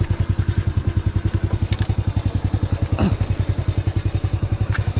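A small Honda 100 underbone motorcycle engine runs steadily with a rapid, even putter, close and constant, with a few faint clicks over the top.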